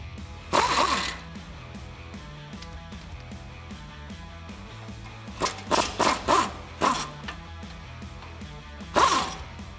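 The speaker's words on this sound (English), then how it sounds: "I'm gonna use a 19 millimeter socket and a swivel socket along with my air gun to pop this bolt off" A pneumatic air gun with a 19 mm socket and swivel rattles off a brake caliper bolt on a 2004-2020 Ford F150. One sharp burst comes first, then a quick cluster of four, then a final burst, over quiet shop background.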